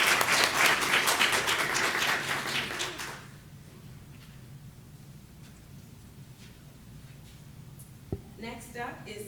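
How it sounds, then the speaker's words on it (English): Audience applause fills a school district board meeting honoring a student, a dense wash of clapping for about three seconds that then fades to quiet room tone with a faint thump near the end. "let's give him another big round of applause"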